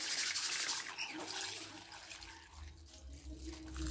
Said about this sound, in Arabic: نغسل هي الحبوب هيك بهذا الشكل